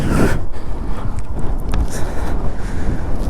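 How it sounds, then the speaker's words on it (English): Strong wind on a high mountain pass in Zanskar, Ladakh buffets the microphone in a continuous roaring rush, with no voices. "It's really windy."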